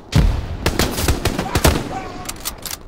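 Gunfire in a World War II shooter game set on the streets of Sainte-Marie-du-Mont, a loud irregular volley of sharp shots in quick succession, some close and some more distant, with a short pause before a few final cracks.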